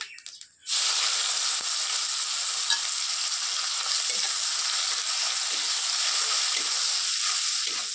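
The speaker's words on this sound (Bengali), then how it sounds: "তেজপাতা আর শুকনো লঙ্কা ভেজে নেওয়ার পর এর মধ্যে দিয়ে দেবো গোটা গরম মশলা, 1 চামচ গোটা জিরে, কেটে রাখা অল্প করে পেঁয়াজ কুচি।" After a brief quiet moment, whole garam masala, cumin seeds and chopped onion drop into hot oil with bay leaf and dried chilli, and a loud, dense sizzle erupts and holds steady, close and continuous.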